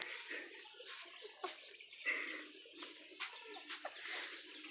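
A crowd of chickens clucks and chatters continuously on a poultry farm, a busy overlapping flock with occasional sharper calls, filling the space at moderate loudness.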